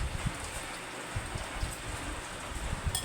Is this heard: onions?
no